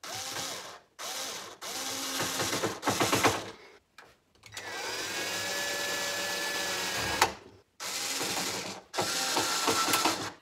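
Small Bosch cordless screwdriver driving screws, with repeated whirring motor bursts and ratcheting clicks, several runs separated by short pauses, close and clear.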